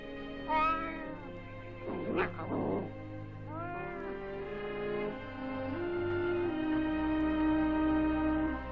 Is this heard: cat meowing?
yes